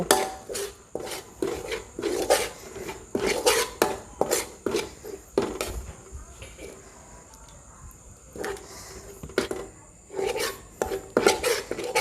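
Green curry paste being stir-fried in a pan for a traditional Thai chicken green curry, with coconut cream added bit by bit, giving repeated scraping and clinking of a utensil against the pan in irregular bursts, close by.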